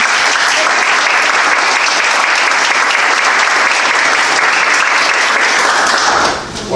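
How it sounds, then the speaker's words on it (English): Audience at a community meet-and-greet gives sustained, loud applause that fills the room evenly for several seconds, then tapers off near the end, with no talking over it. "We should definitely give them a hand of applause for one, their service."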